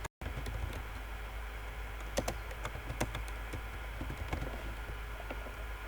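Keystrokes on a computer keyboard tapping at an irregular pace, close and fairly soft, with a few sharper clicks standing out over a steady room hum.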